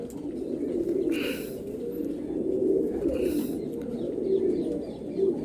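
A male Golden Ice pigeon coos in a steady low warble that runs through the whole stretch, with a couple of brief brighter chirps and no talking.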